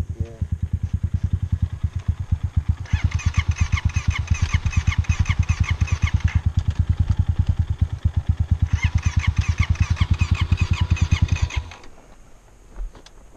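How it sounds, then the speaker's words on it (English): A Kawasaki motorcycle's starter cranks the engine without it catching, a steady, fast, close-up churning that runs for about twelve seconds before cutting off. No one speaks. "I always think the Kawasaki starters sound anemic."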